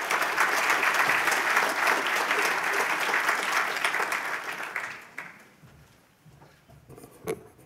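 An audience claps to welcome Professor Nikolai Petrovsky to a talk on diabetes research, a full steady round of applause that fades out after about five seconds, leaving a quiet room with a few stray sounds.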